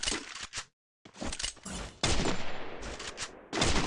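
Bursts of gunfire from the video game Free Fire crack out in loud, choppy volleys with a brief gap, close and dominant, some shots clustering into rapid strings.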